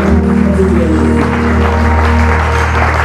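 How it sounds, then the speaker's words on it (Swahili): A congregation claps together during a church wedding service, a dense sustained roar of hands at close range mixed with singing or crowd voices underneath, steady and loud throughout. "Tuna makofi mazuri, makofi mazuri"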